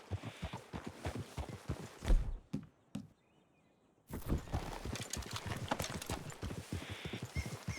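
Hooves clip-clop steadily as horses walk in the video game Red Dead Redemption 2, broken by a brief near-silent pause before the plodding resumes.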